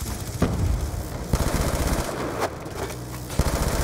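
Enemy turret firing in the Black Ops II multiplayer video game, a steady stream of loud, rapid automatic gunfire with a few sharper bursts standing out, close and continuous with no talk.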